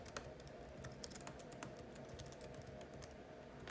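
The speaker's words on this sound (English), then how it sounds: "you're going to type in Picasso" Rapid, steady typing on a computer keyboard, close and continuous with crisp key clicks over a constant background hiss, no voice.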